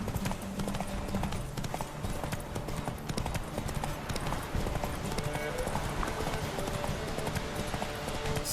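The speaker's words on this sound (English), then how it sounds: "So good at riding horses." Horse hooves galloping during a race in The Witcher video game, rapid continuous clip-clop under game ambience and music, with a voice talking over it.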